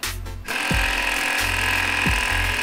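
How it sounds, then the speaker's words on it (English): Loud, steady whine of a cordless brushless impact driver boring with an auger bit on a freshly charged 2 amp hour battery, with pulsing low hammering and brief pitch dips as it bites. "I'm using an auger bit and a freshly charged 2 amp hour battery to see how long these things can drill"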